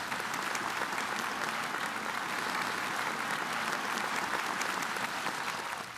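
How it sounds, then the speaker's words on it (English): Steady applause from an audience at a university address honoring scholars, an even, dense patter of many hands clapping throughout, with no speech over it. "Let's take a moment to applaud these outstanding scholars"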